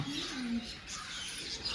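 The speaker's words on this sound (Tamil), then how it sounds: "ஆமாம் நிறைய பறவை" Pigeons coo in a Fundera Park aviary among many other birds, a soft low coo early on followed by faint chirps and rustling against a busy outdoor hum.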